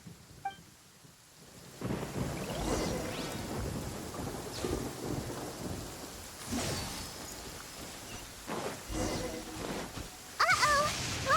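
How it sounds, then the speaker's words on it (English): Thunderstorm in an action video game, rumbling thunder rolls and steady rain fill the scene, with repeated loud cracks and swells rising over a continuous wash of downpour. "Uh-oh! Lightning storm!"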